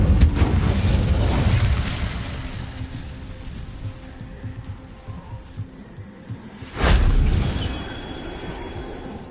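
A fire spell, Incendio, cast in the Hogwarts Legacy video game: a sudden loud whooshing burst near the end that flares and then tails off, following a stretch of rumbling, crackling spell effects.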